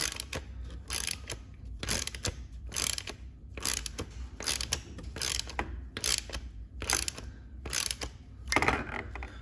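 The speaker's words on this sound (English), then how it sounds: "you're still using a 13mm deep socket" A hand ratchet turns a 13mm deep socket, tightening a nut during a turbo and exhaust manifold install on a Fiat 500 Abarth, giving about a dozen rhythmic clicking strokes up close with no talking.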